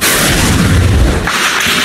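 Loud gunfire in Tipo-Tipo, Basilan, a dense, continuous roar of heavy booming shots and rumble sustained throughout at close range, with no voices.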